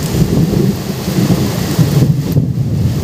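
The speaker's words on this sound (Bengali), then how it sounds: "মেঘের যে গর্জন, এই শব্দ কিন্তু এই মুহূর্তে সরাসরি আপনারা শুনতে পাচ্ছেন" Thunder rolls during a heavy downpour in Medinipur, a loud, deep rumble rising and falling over the dense hiss of pouring rain, with no one speaking.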